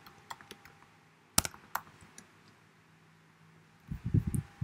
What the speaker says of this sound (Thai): ผมพิมพ์คำว่า start